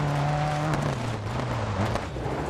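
A rally car in the DiRT 4 racing game brakes hard into a turn, its engine note dropping under a broad, loud rush of gravel and tire noise as it slides through the corner.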